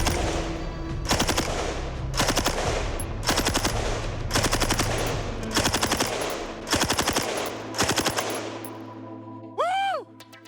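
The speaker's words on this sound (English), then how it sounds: "I just fired 45 rounds from the M60." An M60 machine gun fires 45 rounds outdoors in seven or eight loud, rapid bursts spaced about a second apart, each a rattling string of shots, followed by a brief ringing tone at the end.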